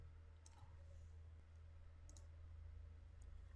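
A few sharp computer mouse clicks at a desk while code is cleared and rerun, quiet and spaced apart over a steady low hum.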